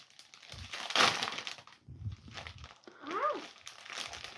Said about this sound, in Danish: Jeg klipper bare op hernede.